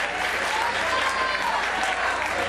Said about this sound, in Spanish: Ese aplauso se lo vamos a dedicar al señor Tesla